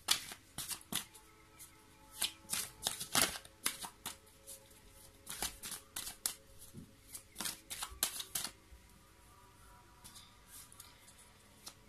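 A deck of tarot cards being shuffled up close, quick bursts of riffling and snapping cards coming in irregular clusters with short quiet gaps between them.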